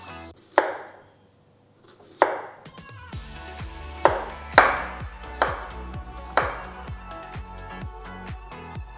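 A knife chops raw banana (vazhakkai) into slices on a board, a few sharp isolated cuts followed by a quick run of close, rhythmic chops with no talking.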